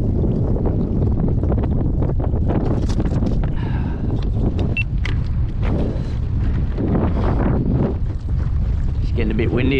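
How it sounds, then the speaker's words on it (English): Steady wind buffets the microphone out on open water near Boggy Creek mouth in Brisbane while kayak fishing for flathead, a constant loud rumble with water movement and occasional faint voice underneath. "She's getting a bit windy out here."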